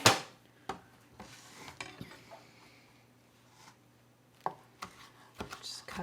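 A knife slices through stacked roasted red peppers on a cutting board, cutting them into slivers; a few sharp taps sound close and separate, with longer quiet gaps between them and no talk.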